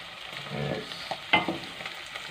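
Green beans are sautéed in a pan, giving a soft crackling sizzle broken by a few close scraping and clattering stirs, with one sharper knock at the middle.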